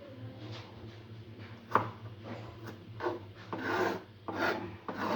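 A knife chops onions on a board in irregular, close strokes over a low background hum. Quiet, with no voices.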